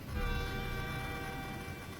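A local commuter train draws nearer in a tense, eerie story scene at night, giving a steady, loud rumble with sustained horn-like tones running through the whole stretch, no voices over it.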